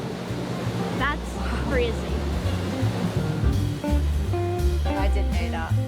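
Riverboat churning through river water, with steady broad wash and engine rumble throughout, wind buffeting the microphone, and people talking over it nearby.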